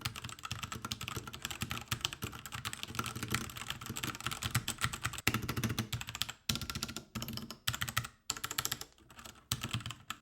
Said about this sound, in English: for a red switch keyboard, I do find that it's more clicky than usual